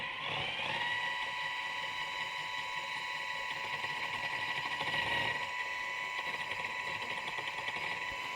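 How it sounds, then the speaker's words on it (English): A mini pottery wheel motor runs continuously with a steady, whining mechanical hum, fairly loud and close, with no talk over it. "It is a little bit loud, but I haven't found a mini wheel that's not."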